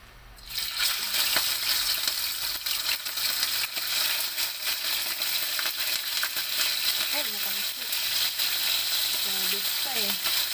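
Galunggong fish frying in hot oil, a steady bright crackling sizzle that fills the clip from start to end, with a few faint voices in the background near the end.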